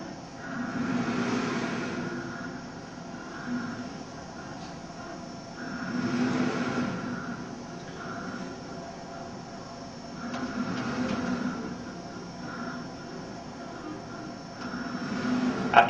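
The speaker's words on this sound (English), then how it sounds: "After measuring all the blades, the machine then moves out of location." A MicroVu Excel vision inspection machine moves through a fan blade inspection, its motion coming as soft, repeated whirring swells every few seconds over a steady low hum.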